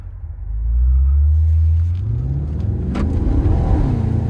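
A 2023 Maserati Ghibli Trofeo's twin-turbocharged 3.8-liter V8 rumbles low and loud, then revs up as the sedan pulls away and accelerates, its deep exhaust note building with gear changes.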